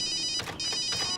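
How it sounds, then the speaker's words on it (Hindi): A mobile phone rings with a bright electronic ringtone, two repeating tonal bursts close by and fairly loud, no talking over it. "मॉम का ही फोन है।"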